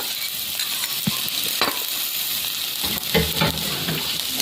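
Onion, garlic and pre-fried tofu frying in hot oil, with a constant sizzle and occasional clinks and scrapes of a spatula being stirred through the pan.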